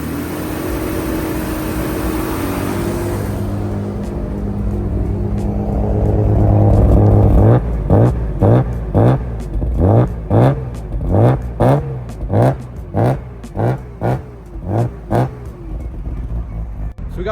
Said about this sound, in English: So we got some cold start, cold revs out of the way